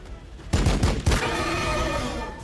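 Gunfire in the Warhammer 40k Battlesector strategy game: a quick burst of several sharp, loud shots followed by ringing, echoing tonal sound effects that fade out.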